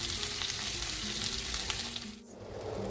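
Garlic butter pork chops fry in a pan on low heat with a steady, close sizzle and crackle. Low background clatter runs under it, and there is a brief dip near the end before the frying resumes.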